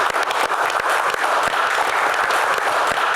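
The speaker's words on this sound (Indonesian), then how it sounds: "tepuk tangan" A studio audience applauds guest stars on a talk show, a loud, dense wash of clapping with distinct individual hand claps standing out, continuing steadily for about three seconds.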